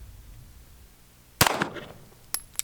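A Glock Gen 4 19 pistol fires a single sharp, loud crack during a trigger test, followed moments later by two brief metallic clicks or clanks, with quiet room noise before the shot.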